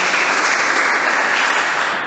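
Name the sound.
applause in church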